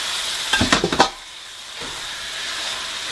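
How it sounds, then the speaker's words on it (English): Unsmashed cooked black beans tumble into a hot pan with a quick burst of wet clattering plops, then settle into a soft, steady sizzle and hiss close by, with no voices. "I'm going to add in my beans that I have not smashed."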